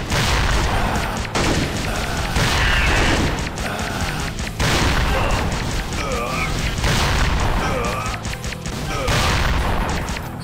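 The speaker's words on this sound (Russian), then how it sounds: "О, бомбардировка пошла." Bombardment explosions in the video game Metal Commando, a dense run of booming blasts and crashing impacts filling the mix at loud, steady level, with game sounds and a voice mixed underneath.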